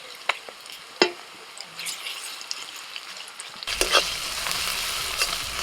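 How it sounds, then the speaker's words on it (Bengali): Ginger-garlic paste fries with chopped onions and green chillies, a soft sizzle with a couple of spatula knocks that swells abruptly into a louder, fuller frying hiss partway through; no talking. "পেঁয়াজের সাথে আদা রসুনটাকে একটু ভেজে নিয়েছি"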